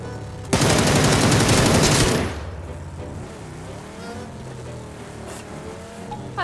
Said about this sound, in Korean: 총소리까지 들리는데?